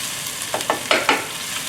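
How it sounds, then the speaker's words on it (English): Mint, ginger and garlic sizzle in a frying pan over high heat with a few sharp scraping stirs, crackling steadily throughout. "Stir fry the mint, ginger and garlic until aromatic."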